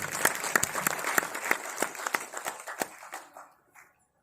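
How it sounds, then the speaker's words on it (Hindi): An audience at a Navratna Foundation talent honour ceremony at Mangalam Institute breaks into a burst of dense, close applause that thins into scattered claps and fades to silence after about three seconds. "एक बार जोरदार ताली दीजिए।"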